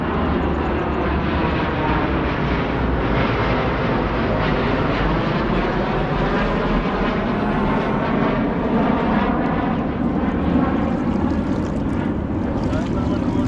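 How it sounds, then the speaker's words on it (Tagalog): A jet fighter roars overhead while a fishing boat is out on the water, a loud broad continuous rumble lasting throughout with a slowly shifting pitch. "Jet fighter."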